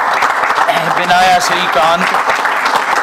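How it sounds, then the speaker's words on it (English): Audience applause for a standing ovation at a reception welcoming the new Consul General of India in New York, a dense wash of clapping running under a voice speaking throughout. "Please rise for a standing ovation and your thunderous applause"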